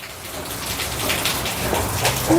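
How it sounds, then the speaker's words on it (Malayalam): Rain falls steadily as a broad, even hiss of drops, fairly heavy and continuous, with no voices. "ഇതേ നല്ല മഴ വരുന്നുണ്ട്"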